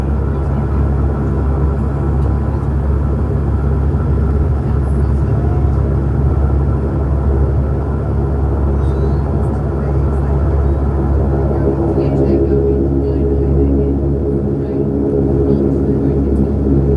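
Airliner taxiing at Sydney airport after landing, heard from inside the cabin as a steady, loud low engine rumble and drone that holds throughout, with no clear breaks.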